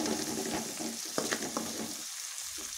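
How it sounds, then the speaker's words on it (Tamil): Onions and tomatoes sauté in a pan with a close sizzle and several scraping stirs, then the sizzle drops quieter near the end. "இப்போ தக்காளியும் சேர்த்துக்கலாம். நல்லா வதக்கி விட்டுக்கோங்க."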